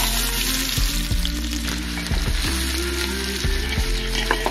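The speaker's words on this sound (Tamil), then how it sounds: "நல்லா கிளறிவிட்டு வெங்காயம் குண்டுமா வேகட்டும்." Large onions frying in groundnut oil with fennel, star anise, cinnamon, cloves and cardamom, a steady close sizzle broken by several distinct scrapes and clacks of a spoon stirring the pan.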